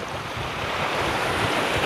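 Sea waves wash against a breakwater on the Jakarta coast, a steady broad roar of surf mixed with wind buffeting the microphone, with no voices.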